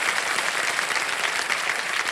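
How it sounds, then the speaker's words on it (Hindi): Studio audience applause on the set of a television quiz show: dense, steady clapping from a large crowd, loud and continuous throughout with no talking over it. "आपका स्वागत करते हैं हम तालियों के साथ"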